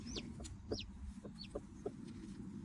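High, thin chirps of a chick still inside its egg repeat a few times over a low, steady hum, with soft clucking of a hen in the background.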